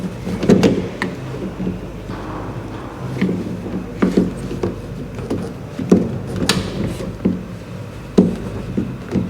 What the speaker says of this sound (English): Take the door handles off a sec.